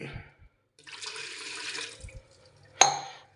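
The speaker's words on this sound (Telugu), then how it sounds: "ఇంకా వాటర్ వేయాలి" A short pour of water splashes into a pan of soaked sago and rava for upma for about a second, followed by a few soft clinks and a sharp metallic tap.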